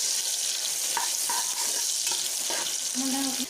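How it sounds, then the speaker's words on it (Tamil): Onions sautéing in hot oil with cinnamon for a mutton gravy, a constant bright sizzle with a few light stirring scrapes and brief clinks near the end. "நல்லா வந்து வெங்காயம் வதங்குது பாருங்கள்"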